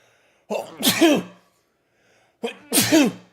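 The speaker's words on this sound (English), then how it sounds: "Bless my sneeze there" Two sharp human sneezes, each with a quick inhaled build-up and an explosive burst, close and loud with a short silence between them.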